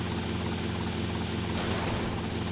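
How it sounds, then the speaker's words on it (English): A video game helicopter flies low over rooftops, its rotor and engine a steady, loud, dense whir that fills the whole stretch without pause, no voices over it. "I should probably have a better, or at least a healthier helicopter."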